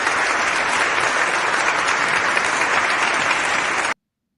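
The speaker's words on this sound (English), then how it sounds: "Clap it up." Loud, dense applause from a crowd, sustained and even for about four seconds before cutting off sharply.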